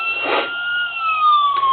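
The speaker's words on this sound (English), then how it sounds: "Siren is a standard 4-tone." A thin electronic four-tone police siren on a diecast model Ford Interceptor Utility wails and slowly sweeps downward in pitch, fairly close and steady, with a brief burst of noise at the start.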